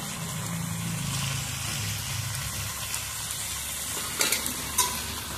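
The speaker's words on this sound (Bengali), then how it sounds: "আমি এখন চিংড়ি মাছটা দিয়ে দিলাম।" Prawns fry in a pan with a continuous close sizzle, stirred with a few quick scraping knocks near the end. No one speaks.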